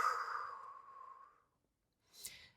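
Long audible exhale during a lower-body floor workout, a soft breathy rush lasting over a second, then a pause and a brief sharper puff of breath, close and quiet with no talking.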